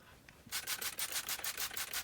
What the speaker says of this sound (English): So just going to spray my hair.